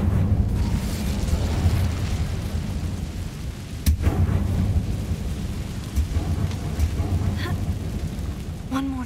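Incendio fire spell cast in the video game Hogwarts Legacy: a loud, sustained roaring rumble with a sharp crack near four seconds, steady and full throughout, with a brief tonal chime near the end.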